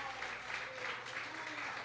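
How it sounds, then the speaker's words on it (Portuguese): Faint applause from a congregation at a prayer service in church, a soft, steady patter of many hands clapping at a distance, with a voice faintly heard. "Você pode dar uma salva de palmas ao Senhor?"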